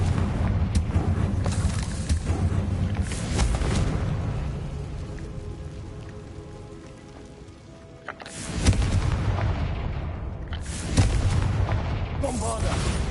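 A Confringo spell is cast in Hogwarts Legacy and sets off a loud fiery explosion. A rumbling blast is followed by a quieter lull, then more booming bursts close by, with game sounds underneath.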